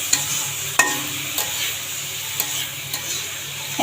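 Leafy greens (shak bhaji) fry steadily in a pan with a constant sizzle, broken by a few soft scrapes and taps as they are stirred.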